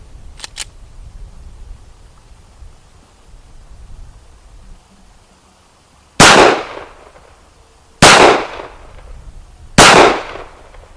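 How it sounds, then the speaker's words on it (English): Three loud, sharp Glock 43 carry-pistol shots, each a sudden broadband crack with a short decaying tail, spaced about two seconds apart after two faint earlier clicks over low background noise; no one speaks. "Glock 43, this is a carry gun, and doing the double taps and the split drill"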